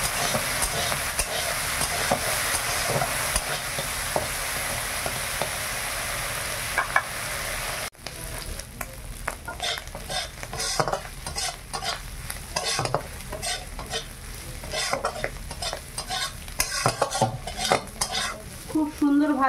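Shelled pond snails fry in a pan, first as a loud even sizzle, then after a sharp break as irregular scraping and clattering strokes of a spatula stirring them over the hissing oil, close up, with no talking.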